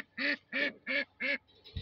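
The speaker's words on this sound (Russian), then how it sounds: "как пасу уток" Young ducks quacking while being herded, four evenly spaced loud quacks close by, then a fainter call at the end.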